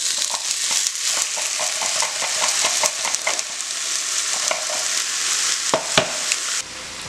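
Plant-based chicken sautéing in grapeseed oil in a cast iron skillet, a bright continuous sizzle with crackling pops and occasional utensil scrapes and stirring, close up and without talking.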